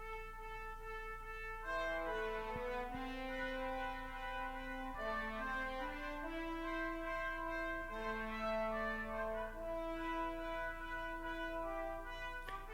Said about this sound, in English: so just the brass playing sounds like this.